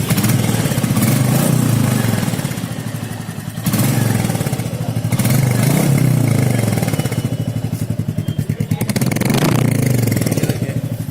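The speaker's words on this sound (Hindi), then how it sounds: "आपको एग्जॉस्ट में काफ़ी अच्छा नोट देखने को मिलेगा।" Exhaust note of a petrol Royal Enfield Meteor 350 Supernova, BS6 model, a steady close thumping single-cylinder putter at idle with slight swells in loudness, loud and continuous with no talk.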